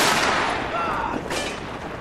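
Gunfire from the video game Spec Ops: The Line. A loud, continuous wash of shooting and noise fills the whole moment with no distinct separate shots, and no voices come through clearly.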